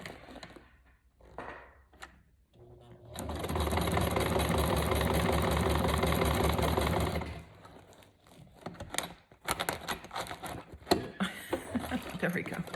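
A sewing machine stitches around a printed word on a handmade journal cover, a steady dense mechanical whir running for about four seconds, then stopping and giving way to quieter handling noises.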